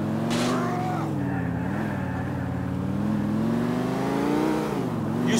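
A car engine in the video game Grand Theft Auto IV drones steadily, its pitch rising and falling as it revs and cruises, with a brief rushing whoosh early on, loud and close.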